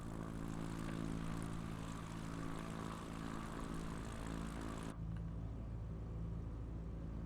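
An experimental propeller plane's engine drones loud and steady from the cockpit during takeoff over Krakow, Poland, its tone shifting abruptly partway through as the hum continues unbroken with no talk.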